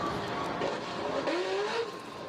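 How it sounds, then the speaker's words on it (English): A Chevrolet Corvette C6 spins its tires at a drag racing event, with a rising squeal and engine roar heard from a moderate distance over a busy background. "That C6 is spinning its ass off too."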